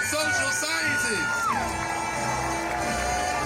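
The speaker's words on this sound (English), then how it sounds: "Let's give a huge round of applause" A large outdoor crowd at a university commencement on a great lawn cheers loudly and continuously, with whoops and shouts rising over a dense wash of voices and clapping.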